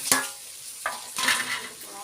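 Spices fry in a pan for pulao, with a few distinct scraping stirs over a soft sizzle, close and moderately loud, across about two seconds.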